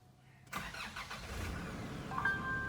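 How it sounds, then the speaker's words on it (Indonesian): A 2019 Nissan Terra VL 4x2 starts by push button after a short lag, its engine catching abruptly and settling into a steady idle, heard close with no talk. "Sekarang langsung aja kita nyalain mobilnya pakai engine startup di sini."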